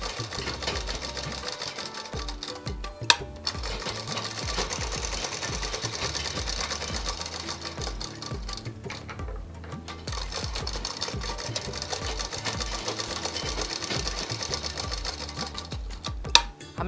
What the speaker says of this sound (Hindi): अब इसके दोनों कंधों को, दाएं और बाएं कंधों को हम सीधे तरफ से उल्टे की तरफ डबल सिलाई पे जॉइंट कर लेंगे